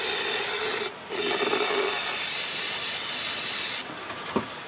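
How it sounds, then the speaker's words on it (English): A Harbor Freight powder coating gun sprays powder with a steady, loud airy hiss that breaks off briefly twice and ends with a few small clicks, with no talking over it. "So I'll press the pedal. It's going now, and let's do a little powder coating."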